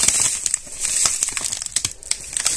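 A plastic packet of sugar crinkles and crackles up close as it is emptied onto berries for jam, with rapid, irregular rustles and no voices.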